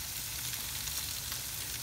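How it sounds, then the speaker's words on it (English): Steaks on a barbecue grill give off a continuous crackling sizzle with fine popping spatter, close up and fairly soft, steady across the short stretch with no talking. "They sizzling just a little bit."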